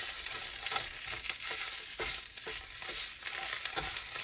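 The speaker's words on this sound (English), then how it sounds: "Basically, I'm just drying the spinach out." Spinach dries out in a hot pan for a salmon Wellington filling, a steady close sizzle and crackle with soft stirring scrapes, no voices.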